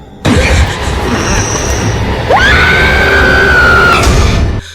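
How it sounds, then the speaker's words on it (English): Scream in a Haunting of Hill House episode, a long, loud shrill cry that rises sharply and holds for nearly two seconds over a dense noisy bed of sound. "What was that screaming?"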